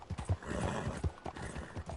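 A horse in Red Dead Redemption 2 trots with quick, rhythmic hoofbeats and lets out a short whinny, close and fairly quiet, with no talk.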